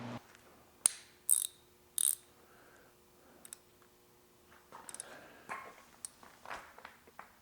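A ratchet tightens a bolt from underneath while LED lights are mounted on an Argo, short sparse bursts of clicking pawl strokes separated by pauses, close and fairly quiet, with light handling clatter between them.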